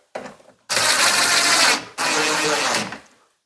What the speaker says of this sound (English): I'm going to take these screws and just drive them in and lock these 2 together